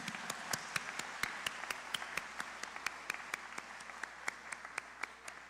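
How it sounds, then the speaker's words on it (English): An awards ceremony audience applauds student winners, a lively round of many hands clapping with sharp, rhythmic claps standing out over a dense, sustained patter. "let's do one more big round of applause to all the student winners and all the families here"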